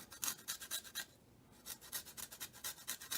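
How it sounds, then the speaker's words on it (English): A lime is zested on a grater in quick, rhythmic rasping strokes, close and crisp, with a short pause midway before the scraping resumes; no one speaks. "do zest the lime."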